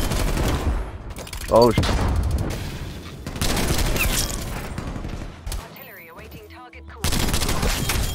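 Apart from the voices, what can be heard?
sniper rifle gunfire in a video game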